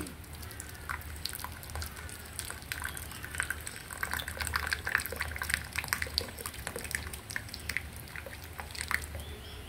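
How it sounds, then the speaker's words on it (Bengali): Brewed tea water poured from a pot into a cup, a steady quiet trickling and splashing stream close by that runs for several seconds, with no talk. "এবার চা পাতার পানি ঢালছি কাপে।"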